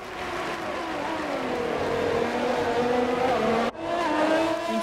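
Formula 1 cars in the F1 2020 video game roar away at the green-flag restart in Monaco, giving a continuous high-revving engine whine that shifts pitch as the cars accelerate, with a brief drop partway through.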